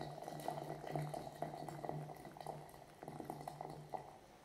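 Water heating in a tetsubin iron kettle, a faint bubbling and ticking with small irregular pops and a low steady hum, quiet and close, no talk.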